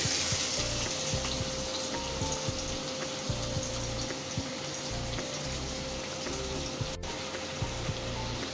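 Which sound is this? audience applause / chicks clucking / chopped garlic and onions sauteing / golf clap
chopped garlic and onions sauteing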